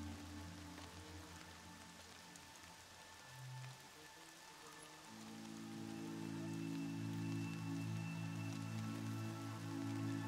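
Steady rain falls across a scene in the video game Horizon, a continuous soft hiss with tonal game music and ambience layered underneath, growing a little fuller midway.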